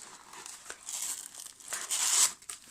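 Paper backing peeled off sticky-back Velcro tape for DIY light-up fairy wings, a close, soft crinkling and tearing rustle that rises toward the end, with no talking.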